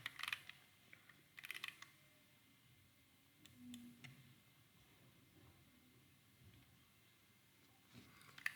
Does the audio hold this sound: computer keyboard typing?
yes